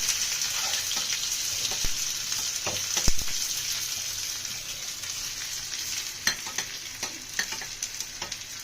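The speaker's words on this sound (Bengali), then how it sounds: "ভালোভাবে ভাজা ভাজা করে নেবো" Onion and garlic hiss and crackle in hot oil while a spatula stirs and scrapes the pan with occasional sharp clicks.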